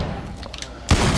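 Revolver fired in the shooter game Blacklight Retribution: a single loud, sharp shot bursts in near the end after a stretch of quieter game noise.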